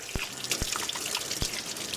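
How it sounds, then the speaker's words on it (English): A kitchen tap runs while hands are rinsed, a soft continuous splash of water with a few sharp drip and splash hits, close by and without speech. "I'll just give my hands a quick rinse."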